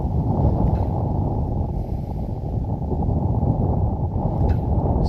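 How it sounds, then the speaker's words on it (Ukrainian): Heavy, roaring wind on the Desna riverbank buffeting the microphone with a constant low rumble and no pause or talk. "вітер в обличчя і так пронизує дуже сильно"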